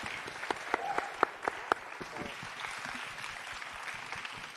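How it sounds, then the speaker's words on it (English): A modest audience at a book fair event applauds, a soft, dense patter of clapping with a few sharper claps standing out near the start, steady throughout. "let's give them a big round of applause"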